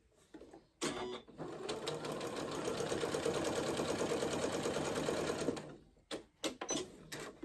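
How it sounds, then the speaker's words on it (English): A sewing machine runs in one steady, fast stitching burst of about five seconds while sewing a line of a dress pattern, then stops, followed by a few short clicks and handling sounds. "And just sew to your next line here."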